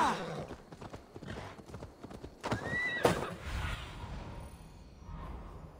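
Horse hooves clip-clop at a gallop in Assassin's Creed Valhalla, with a loud neigh rising midway over steady galloping and faint background game sound.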